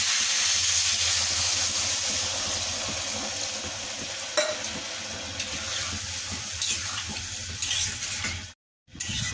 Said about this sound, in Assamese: এতিয়া চাওক, মই গৰম পানী দি দিলোঁ।